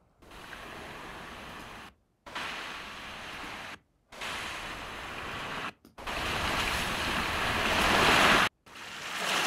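Ocean waves wash and surge in a series of broad roaring swells, each cut off by brief silences, growing louder toward the end, with no talk.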